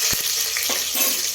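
Green chilies drop into hot oil with cumin seeds and mustard seeds, bringing a close, bright hiss of frying with a couple of quick low knocks near the start and light stirring scrapes.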